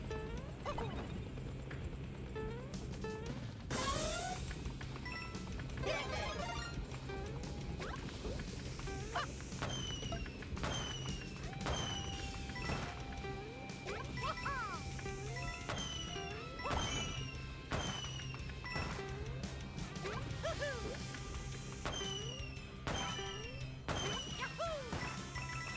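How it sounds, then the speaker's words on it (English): Video game fireworks in Super Mario Bros. Wonder, with repeated bursts, whooshes and crackling pops over a steady game soundtrack and electronic effects, continuing throughout at moderate loudness. "They're fireworks."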